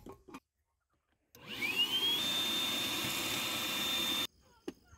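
A small 1.5-gallon shop vacuum running off an 1100-watt inverter in a camper van starts up with a rising whine and drones loudly and steadily for about three seconds before cutting off, with a few faint knocks around it.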